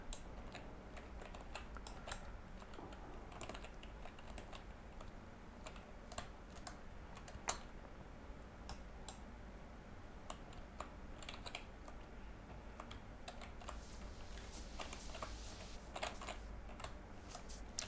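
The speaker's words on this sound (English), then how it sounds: "I don't think I'm hitting the wrong keyboard button." Quiet, continuous typing on a computer keyboard, a fast irregular patter of soft clicks with a few louder keystrokes over a faint background hum.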